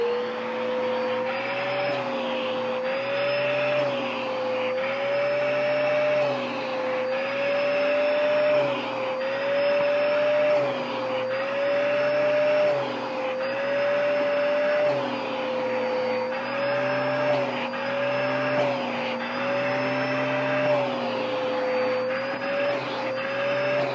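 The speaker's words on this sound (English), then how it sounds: "Vacuum hose." A vacuum cleaner runs continuously and loud nearby, its motor whine steady with slight rhythmic wavering throughout, with no talk.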